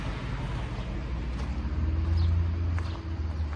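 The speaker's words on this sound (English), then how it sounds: "heard the sound of cars going by" Cars passing on a nearby road, a steady low traffic rumble that swells as one vehicle goes by in the middle, with faint background sounds and no talk.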